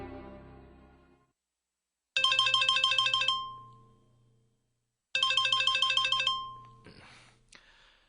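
A telephone ringtone in a radio drama plays twice as bright repeating electronic tones with a pause between bursts. Brief soft sounds follow the second ring, after a quiet opening.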